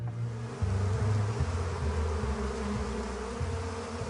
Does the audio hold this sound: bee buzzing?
yes